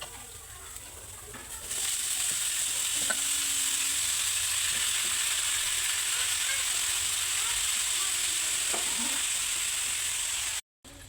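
Vermicelli for semai pulao fries in a pan with a bright, steady hiss that rises sharply after a quieter opening and holds loud and even, with a few faint stirring knocks, then cuts out abruptly just before the end.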